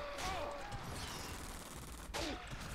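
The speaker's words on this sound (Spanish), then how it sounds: "cómo dispara el bicho este" A robot creature in the ARK: Survival Evolved mod firing its weapon, a continuous rattling barrage with whooshing laser-like sweeps, steady and loud throughout with a brief gap near the end.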